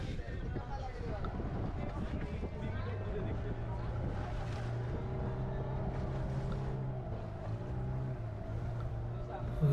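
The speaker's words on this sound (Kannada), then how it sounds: "ಆಗಲೇ ಬೋಟು ನಿಧಾನಕ್ಕೆ ಹೋಯ್ತೈತಿ, ಆಲ್ರೆಡಿ ಪಕ್ಕದ ಬೋಟು ಎತ್ತೆತ್ತು ಕುಗ್ತೈತೆ." A motorboat drones steadily on the sea off Kodi Beach, Udupi, a low humming engine with wind and indistinct voices around it.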